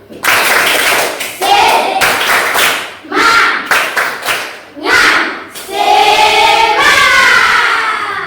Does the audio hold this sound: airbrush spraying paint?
no